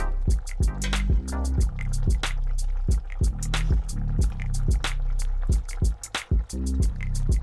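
Thai red curry with chicken simmering in a pot, giving a steady run of close, wet bubbling pops and gurgles that burst and pulse repeatedly throughout, with no talking over it.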